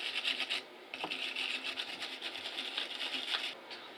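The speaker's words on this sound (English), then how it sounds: "So we'll start by cleaning it up." Someone scrubs a dirty driveshaft universal joint from a C10 pickup clean, a close, quiet rasping scrub repeating in rapid back-and-forth strokes with a brief pause.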